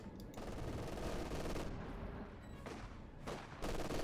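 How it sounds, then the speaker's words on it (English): In Company of Heroes 2, a distant World War II battle sends out rapid machine-gun bursts and scattered rifle fire. The shots crackle faintly in clustered volleys with short gaps between them. "Shot fired there"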